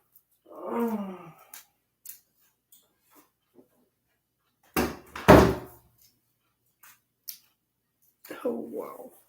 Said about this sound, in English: Let me go close the door.